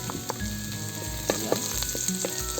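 Garlic sautéing in hot oil for a lomi-style pancit molo, a steady close sizzle with a few light utensil taps and no voices.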